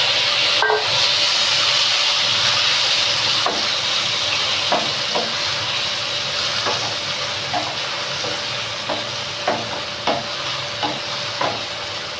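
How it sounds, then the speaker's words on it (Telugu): Cucumber pieces fry in a pan with green chillies for chutney, giving a constant close sizzle and steamy hiss, with a spatula clicking and scraping against the pan at an irregular, quickening pace. "ఇప్పుడు ఇందులో దోసకాయ ముక్కలు వేసి వేయించుకోవాలి."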